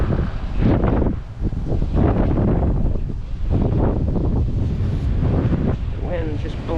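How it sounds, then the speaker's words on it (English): Strong gusts buffet the microphone outdoors at a roadside tow scene after a head-on crash between a Honda and a Toyota, a loud, rumbling, uneven roar with voices talking underneath. "The wind's just blowing it in."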